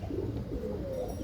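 A pigeon coos on a rooftop, a low soft rolling murmur heard close and unbroken for a moment.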